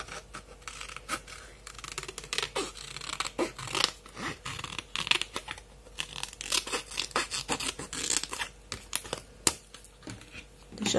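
Scissors snip through paper for a craft art journal page, a rapid run of crisp close cuts and rustling at an irregular rhythm, with soft handling noise in a quiet room.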